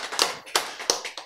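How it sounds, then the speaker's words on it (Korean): A few sharp hand claps from an audience at a Korean lecture, four or so distinct close claps in quick succession with short gaps between them. "박수!"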